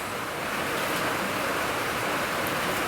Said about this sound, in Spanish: es un día de lluvia